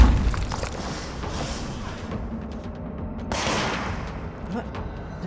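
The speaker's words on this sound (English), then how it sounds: "Oh no, they're actually shooting at me." Enemy gunfire in the game Control: scattered gunshot bursts and impacts at moderate loudness, coming in uneven volleys over a rumbling backdrop.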